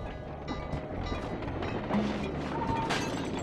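Train in the video game Sly 2: Band of Thieves, a steady rumbling rail roll with faint clickety-clack, moderately close and continuous, with no talk.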